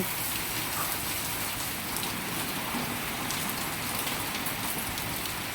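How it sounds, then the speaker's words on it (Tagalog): Steady rain falls outdoors as a dense, even hiss of drops that holds unbroken throughout, with no voices over it. "Umuulan yan. Umuulan ang dito."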